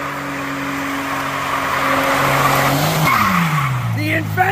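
Stunt cars screech through a show, tires squealing in long sliding wails over revving engines, loud and close, with voices in the background.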